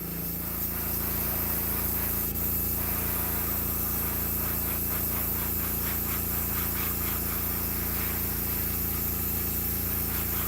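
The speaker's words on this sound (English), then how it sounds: "You want to spray at an angle." An airbrush sprays paint onto a handmade wooden fishing bait, a steady, unbroken hiss of air held at an even level throughout, with no talking.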